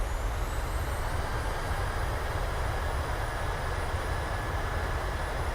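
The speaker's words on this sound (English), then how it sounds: "Thrusters reverse." Airliner reverse thrust roaring after a bounced landing in MSFS 2020, a steady, loud broadband engine rush with a faint high whine held throughout, no voices.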